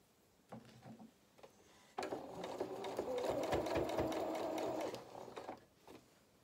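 Sewing machine stitching a seam on a fabric toy cat's head with a 1 centimetre seam allowance, a quiet steady three-second run after a few slow clicks, then stopping.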